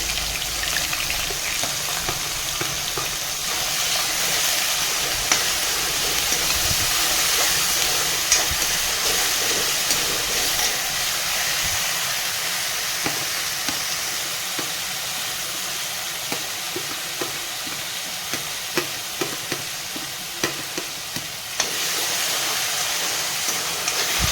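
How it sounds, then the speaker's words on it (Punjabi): Mustard seeds and chillies fry in a pan for a curd and chilli curry, making a loud, continuous sizzle dotted with small crackles and pops, heard alone with no voices. "ਰਾਈ ਪਾਵਾਂਗੇ ਜੀ ਚੰਗੀ ਤਰ੍ਹਾਂ ਭੁੰਨ ਲਈ ਤੇ ਨਾਲ ਪਾਵਾਂਗੇ ਆਪਾਂ ਮਿਰਚਾਂ ਜੀ"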